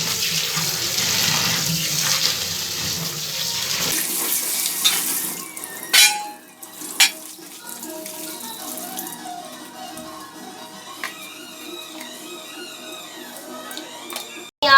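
Ginger and garlic being washed under a running kitchen tap in a sink, a steady stream of water with clinks and splashes as the pieces are handled, later softening to sporadic handling noises.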